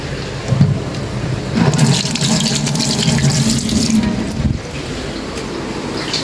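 Water runs steadily from a kitchen tap while hands are washed under it, a continuous close splashing gush that swells and then cuts off near the end, with no talking.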